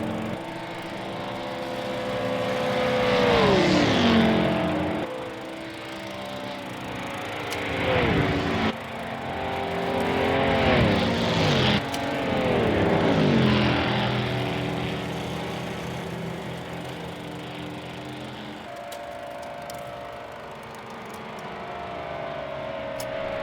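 1955 sports racing cars, including a Coventry-built machine, roar past one after another on a straight, engine notes swelling loud and near, then dropping in pitch as each car passes and fades into the distance.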